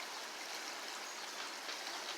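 Water rushes steadily through a street storm drain that empties toward the Charles River, a constant, even broadband wash with no voices present.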